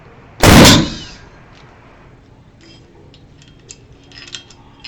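An airsoft launcher fires a Nerf football with a single loud, sharp pop and brief whoosh near the start, then the space falls quiet apart from a few faint light clicks and handling taps.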